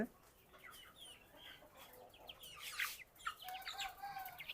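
Farm chickens cluck and squawk in short, scattered bursts at close range in a poultry shed, with soft background rustle and no talking.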